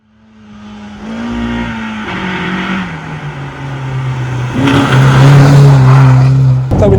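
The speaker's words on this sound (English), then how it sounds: "you driving in your Mk3 Golf rally car" A VW Mk3 Golf rally car pulls away and revs hard, the engine note climbing through the gears from a low idle to a loud, strained roar heard from close by.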